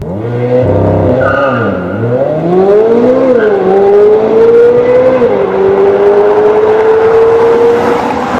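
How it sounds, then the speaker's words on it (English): Chevrolet Corvette Z06 engine revving hard and loud close by, pitch sweeping up and down between throttle blips before settling into a long rising high-rpm wail. "I've seen snippets of what the Z06 is gonna be and what it sounds like"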